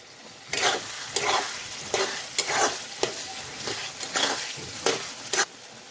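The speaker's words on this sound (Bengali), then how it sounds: "এগুলো ভালো করে নেড়ে চেড়ে নেব" Soaked old tamarind stirred in a hot pan for a pickle, with a rhythmic series of about eight scraping strokes over a low sizzle, close and clear with no talking.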